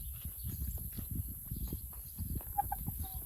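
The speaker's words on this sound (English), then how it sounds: "Sitting in the shade, watching my chickens." Backyard chickens clucking quietly outside their coop in a farm garden, with soft scattered calls and a couple of sharper clucks near the end over a steady low background hum.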